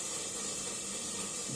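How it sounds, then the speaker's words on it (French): Steady hiss of food frying in a pan while an evening meal is prepared at home, a constant broadband sizzle running without pause at low, even loudness, alone. "désolé s'il y a un peu de friture, c'est parce qu'on est en train de préparer le repas du soir"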